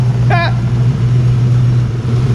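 A Foxbody Mustang GT with a mass air setup and cat-back exhaust idles steadily with a low, even hum close by, while a brief chirpy whistle rises over it near the start.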